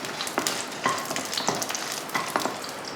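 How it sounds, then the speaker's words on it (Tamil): Chillies frying in oil for a chutney, a close crackling sizzle with a few quick stirring scrapes and bursts, short and moderately loud, no voices. "அடுத்த சட்னிக்கு முதல்ல மிளகாயை போட்டு வறுத்துக்கலாம்."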